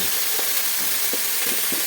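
Eggplant sizzling and frying in hot oil, a constant crackling hiss with a few soft stirring knocks, close up and with no talking.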